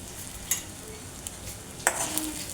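Peanuts frying in a pan with oil, a steady close sizzle under occasional sharp scrapes and clinks as they are stirred.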